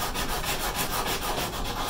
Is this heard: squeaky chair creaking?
no